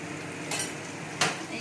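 A spoon stirs a paneer curry mixture in a pan over a low, constant sizzle, with two brief scraping strokes standing out close by.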